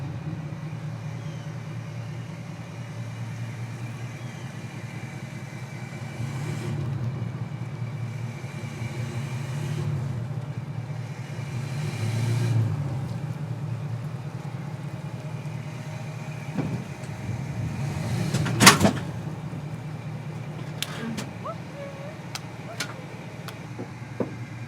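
A pickup truck engine idles with a low steady rumble while a camper is hitched, a few clanks and knocks rising above it near the end.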